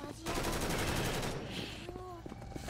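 Rapid burst fire from a gun in the Left 4 Dead 2 video game, dense repeated shots rattling loudly for about two seconds, then thinning into scattered game effects.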